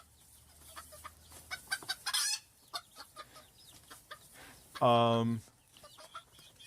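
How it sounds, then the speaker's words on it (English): Chickens cluck in the background, with a loud rooster crow near the middle, audible behind a quiet voice during a live stream. "you just hear birds"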